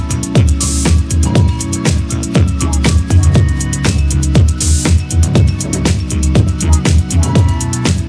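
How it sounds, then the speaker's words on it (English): A synthesizer jam in a MIDI re-amping session: a loud, dense groove of rhythmic synth hits and bass notes, with filters sweeping up and down over a steady beat. "I'm playing with the filters where it's kind of like really rising,"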